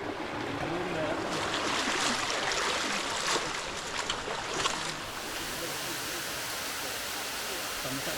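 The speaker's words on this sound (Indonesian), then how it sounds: "melihat keindahan dari air terjun Sungai Buluh Kuring" Broad rushing water noise at the Sungai Buluh Kuring waterfall, steady and moderately distant, louder in the first half and then settling to an even, softer roar.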